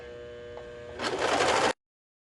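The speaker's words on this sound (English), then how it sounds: "So we're going to go ahead and serge this on here" A serger overlocking fabric for a heart-shaped plush pillow, a short burst of fast mechanical stitching buzz after a brief quiet lead-in, close and steady, ending abruptly.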